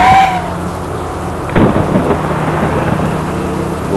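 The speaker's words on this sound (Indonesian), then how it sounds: "hujan nih" Rain and rumbling thunder in the Bus Simulator Indonesia game, with a Pahala Kencana bus mod, a steady loud rain hiss with a deep thunder roll swelling midway, no talk.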